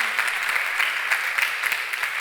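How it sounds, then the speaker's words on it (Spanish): An audience at a talk on child and adolescent mental health applauds for an author, with steady dense clapping throughout at moderate loudness. "un aplauso para Lucía"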